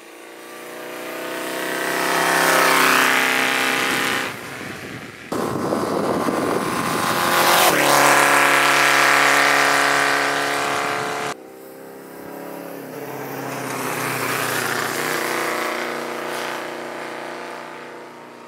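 A motorcycle that went unwinterized runs on a short neighborhood test ride, its engine droning and rising and falling through several long revving pulls and gear changes, loud and steady with no voices.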